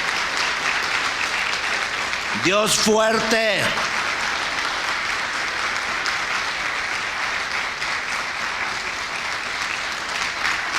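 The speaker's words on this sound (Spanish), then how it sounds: "Yo creo que Dios merece un aplauso de nuestra alabanza, de nuestra gloria, de la honra a Él." Congregation at a Spanish-language church service breaks into sustained applause for God, a broad steady wash of clapping throughout, with a brief sung or shouted voice rising above it early on.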